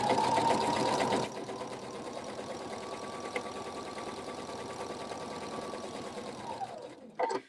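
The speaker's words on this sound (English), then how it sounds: "So I'm gonna go ahead and sew this one along this edge here." A Husqvarna Viking sewing machine stitches along the edge of a quilt-as-you-go mug rug, its needle running as a steady, close mechanical whir for several seconds before stopping.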